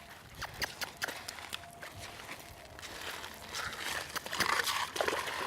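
A horse walks and paws through shallow water on a trail crossing, with soft hoof splashes, sloshing and scattered clops close by at a low level.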